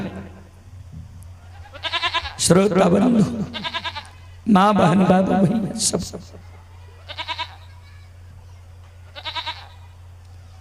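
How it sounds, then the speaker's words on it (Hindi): Several goats, castrated billy goats, bleat in short wavering calls spaced across the stretch, fairly close and loud, while someone talks briefly at the start over a steady low hum. "अचानक पांचों खसी अछमित नगरी में बाबूजी मिमिया रहले"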